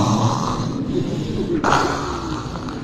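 A man imitates snoring with his voice during a religious talk, a rough, rasping, breathy sound held close and loud, with a sharper snort-like shift about halfway through.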